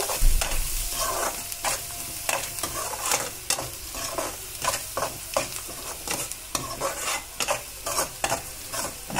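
Onions with turmeric fry in a pan for a Maggi noodle dish, a spoon scraping through them in repeated strokes over a soft, continuous sizzle, close up and with no speech.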